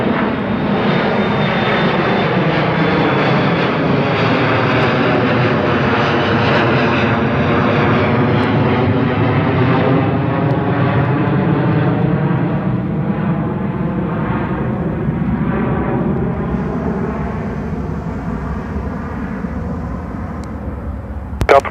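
An airliner takes off at Seattle-Tacoma International Airport, its jet engines roaring loud and continuous, the tone sliding downward as the aircraft passes and climbs away.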